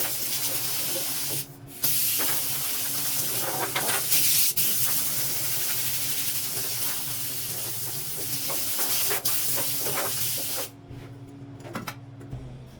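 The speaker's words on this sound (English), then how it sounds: "it's time to wipe her down and spray some primer on her." A spray can of primer hisses in long continuous bursts on a Ford truck tailgate, close and loud, with a couple of short pauses and a rattle before the spray cuts off.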